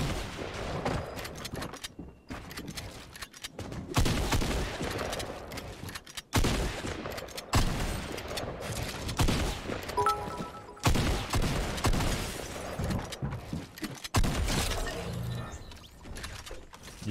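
Shotgun fire in a fast-paced video game: loud, close blasts and clattering mechanical reload and pump sounds with bursts of other gunfire in a dense, continuous battle mix.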